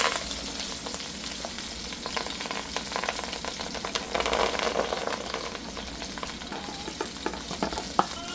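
Mixed vegetables cook in a gumbo roux for chicken, shrimp and sausage gumbo, giving a close, continuous sizzle and crackle with occasional scraping stirs and a small knock near the end.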